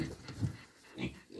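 Pigs fighting each other at a farm feeder, a scuffle that has gone on for an hour. A few low, rough grunting bursts come and go, fairly close, with no one talking.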